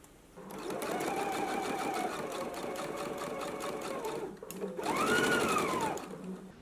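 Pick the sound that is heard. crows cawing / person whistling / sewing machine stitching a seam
sewing machine stitching a seam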